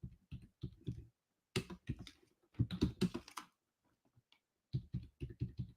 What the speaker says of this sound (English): I'm typing in our WebEx group right now